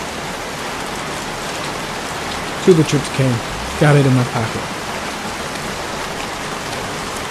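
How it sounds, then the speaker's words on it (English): Heavy rain in the Heavy Rain video game hisses steadily and fairly loudly, while someone speaks briefly over it in the middle. "Goddamn rain. Soaking wet."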